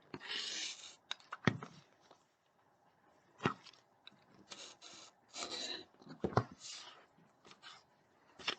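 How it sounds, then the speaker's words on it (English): Paper folded along a sewn seam line in foundation paper piecing: a run of soft, close crinkles and sharp creasing rustles in short, irregular bursts, with quiet gaps between them. "I'm going to take the paper and I'm going to fold it along that sew mark"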